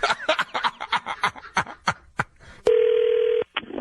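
A telephone call ringing out: after a stretch of talking and chuckling, a single steady electronic ring tone sounds for under a second, followed by a brief second blip.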